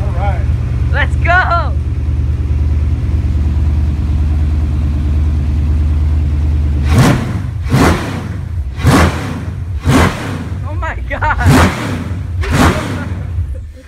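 An LS-swapped C10 truck engine idles loud and rumbling just after its first startup, then snaps through a series of sharp revs while people talk excitedly over it.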